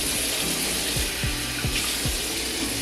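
Tap water runs steadily while bear paw boots are washed under it, giving a continuous loud hiss. Several short rubbing knocks from the scrubbing break in at regular intervals.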